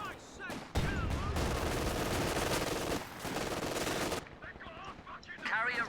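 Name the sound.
bunker machine gun firing in video game Company of Heroes 2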